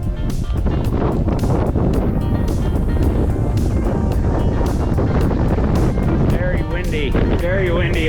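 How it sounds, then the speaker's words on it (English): Strong gusty wind on a mountain saddle along Flagstaff's Humphreys–Agassiz ridge roars and buffets the microphone continuously, loud and close, with a brief higher whistling tone near the end. "Very windy up here."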